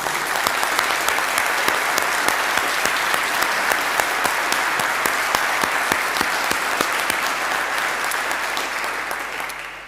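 A large audience claps continuously for graduates at an awards ceremony, a dense, steady wash of applause that stays loud throughout and only begins to fade at the very end.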